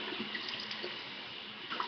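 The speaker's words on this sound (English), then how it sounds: "You see the water. I'm just going to come in and gently rinse and rub." Water runs steadily from a bathroom sink tap during face rinsing, a close, soft continuous splash with small trickles.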